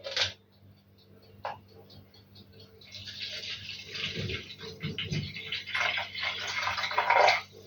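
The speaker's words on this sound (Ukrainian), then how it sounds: "240 грамів вливаю сюди на соду, сода починає працювати" Strongly carbonated mineral water, 240 ml, poured onto baking soda in a measuring glass for a jam pie batter, fizzing and crackling steadily, building louder toward the end, close by, with someone speaking over parts of it.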